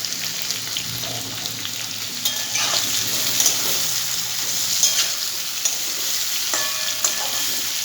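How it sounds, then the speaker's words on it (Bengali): Onion pieces frying in a pan, a steady close sizzle with a few stirring clatters and scrapes running throughout, no talk. "এর মধ্যে দিয়ে দেবো পেঁয়াজের টুকরোগুলো।"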